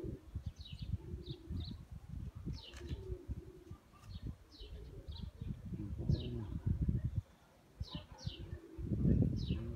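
Pigeons coo in soft, repeated low calls outdoors, over a murmur of background rumble and faint higher chirps, at moderate distance.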